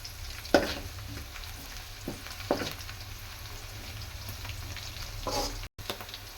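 Green chillies frying in oil in a pan for fish curry, a soft steady sizzle with a few sharp crackles and stirring scrapes, close but fairly quiet.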